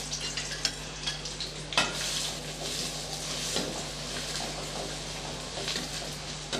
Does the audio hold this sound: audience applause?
no